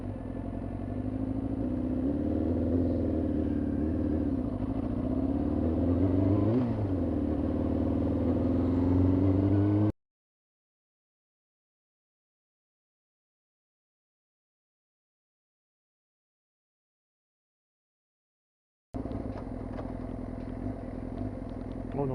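A Yamaha YZF R6 with an RPM stuttering fault revs and surges unevenly, its engine wavering and straining close by; the sound cuts out to silence midway, then resumes.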